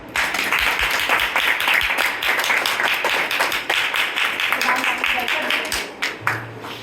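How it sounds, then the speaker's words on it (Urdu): Church congregation clapping during an Urdu-language worship gathering, a dense, loud burst of hand claps sustained for several seconds with voices mixed in, then trailing off. "دو تالیاں."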